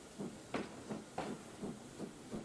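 A Standard 4MT tank locomotive in Trainz 22 gives off quiet, regular steam chuffs, around seven soft hissing bursts in a steady rhythm at low volume.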